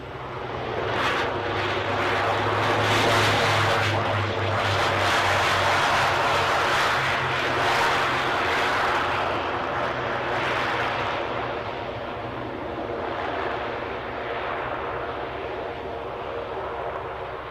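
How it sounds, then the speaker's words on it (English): An Aer Lingus ATR 72 propeller airliner from Dublin comes in to land at Aberdeen airport, its steady loud engine drone filling the whole stretch and slowly fading toward the end. "let's get this plane down. This will be Aer Lingus from Dublin."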